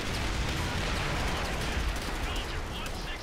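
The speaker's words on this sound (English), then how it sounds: "Missiles." Dense, continuous roar of missile explosions and battle noise in the World War II shooter Call of Duty: World at War, loud and sustained throughout.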